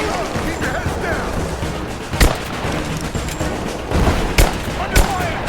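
Gunfire pops during a firefight in Rise of the Tomb Raider, several sharp isolated shots scattered over a busy bed of battle noise, while voices speak over the action.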